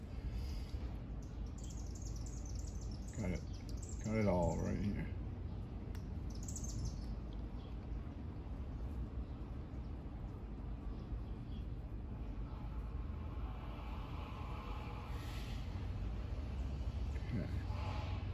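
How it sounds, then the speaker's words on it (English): Birds chirp in a downtown city setting, with a short burst of bright calls early on over a constant low urban hum, while a person talks briefly. "You can hear the sounds of the city and you can hear the sounds of the birds."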